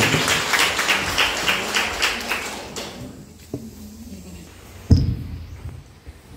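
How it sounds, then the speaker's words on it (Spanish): Wedding guests applauding the newlyweds at a Salvadoran church ceremony, a loud, dense burst of clapping that fills the room for a few seconds and then quickly thins out into quieter shuffling, with one sharp knock near the end. "un fuerte aplauso a los esposos."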